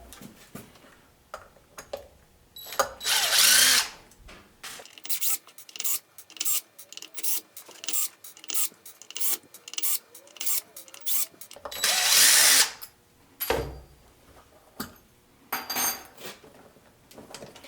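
Small screws being worked out of RC car tires with a hand tool, heard as repeated short scraping and rasping strokes in quick rhythm, with a couple of longer loud grinding bursts, close to the listener.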